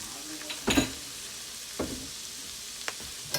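A pan of sautéed food with flour just added for a venison steak dish, heard as a few short scraping stirs and faint sizzle, one louder burst followed by quieter strokes, close and without talk.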